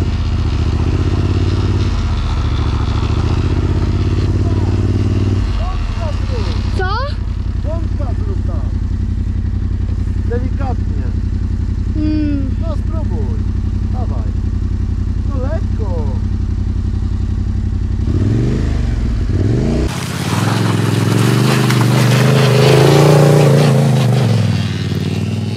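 A Yamaha MT-07 motorcycle being ridden, its engine droning loud and steady nearby with shifts in pitch and a surge of revving near the end, while voices talk over it.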